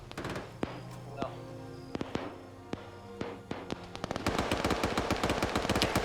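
Rapid automatic gunfire in a multiplayer military shooter match, a turret and mortars in play: sharp bursts and single cracks over the first four seconds, then a dense, loud sustained barrage of overlapping shots and explosions filling the end.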